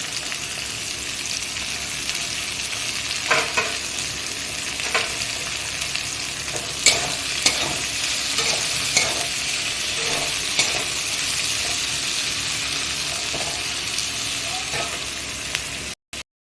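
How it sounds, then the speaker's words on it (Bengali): Onion fries in a pan until lightly reddened. A constant close sizzle is broken by scraping clicks from a stirring spoon, with no talk. "আমার পেঁয়াজটা হালকা লাল লাল করে ভাজা হয়ে গেছে"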